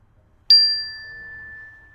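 A single bell strike during a kids' yoga class rings out sharp and clear, then leaves a long, pure tone slowly fading in a quiet room.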